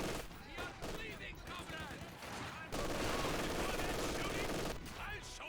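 MP40 submachine guns fire in rapid bursts in the video game Company of Heroes, and the gunfire is loud and sustained. A commentator talks continuously over it.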